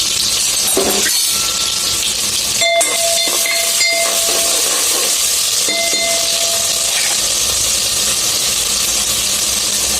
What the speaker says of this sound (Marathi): कांदा फ्राय करून घेते.